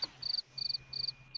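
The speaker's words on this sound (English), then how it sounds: "Chirp, chirp, chirp. Crickets." Crickets chirp as a sound effect, four short, even, high-pitched trills spaced at a regular rhythm over a faint steady tone.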